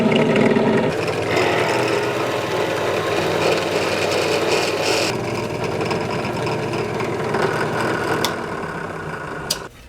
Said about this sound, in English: Board is drilled perfectly. All 3 countersinks look good.